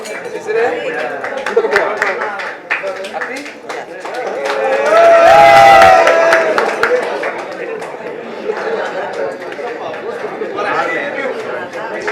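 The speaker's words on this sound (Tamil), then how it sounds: "So ஒரு பெரிய கைத்தட்டோட let's welcome விக்னேஷ்" Scattered clapping and crowd chatter fill a luxury salon launch as guests are welcomed, the applause swelling to a louder peak midway, with people talking throughout.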